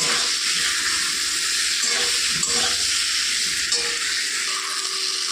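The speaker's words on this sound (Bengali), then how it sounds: "পটলটা আমার ভাজা হয়ে গেছে" Pointed gourd fries in oil with a steady sizzle and broad hiss, punctuated by a few soft stirring scrapes; close and fairly loud, with no voices.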